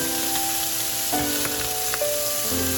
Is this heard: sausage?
yes